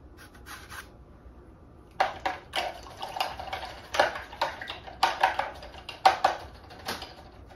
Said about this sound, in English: I'm gonna rinse my brush out.